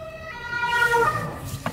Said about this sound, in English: so we make a little bit of space here for the ambulance